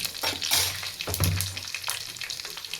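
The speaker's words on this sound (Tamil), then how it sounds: "வெந்தயம், அதுக்கப்புறம் வந்து பார்த்திங்கன்னா சோம்பு, கொஞ்சமாக கருவேப்பிலை எல்லாம் போட்டு லைட்டாக பொரிட்டோம்" Fenugreek seeds, fennel seeds and curry leaves frying in hot oil for a crab dish, a steady close crackling sizzle with brief louder spurts as the pan is stirred, with no voices.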